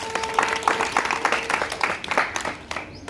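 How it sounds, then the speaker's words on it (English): Pupils and teachers applaud at a school Human Rights Day celebration, a burst of scattered hand claps in an indoor hall, fairly close and moderately loud, thinning out toward the end. "Big round of applause."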